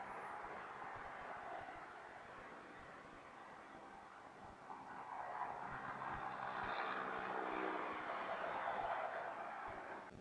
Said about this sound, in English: as the airplane is just moving through